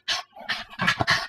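Puppy panting and breathing in quick, close bursts, about four loud breathy pulses with short gaps between them, heard alone with no talking.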